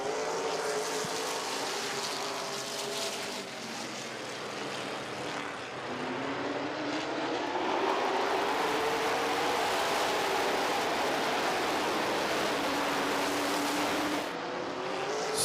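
Race cars roar around Midvale Speedway in a continuous, dense engine drone, with pitch rising and falling as the pack sweeps past, heard from a moderate distance.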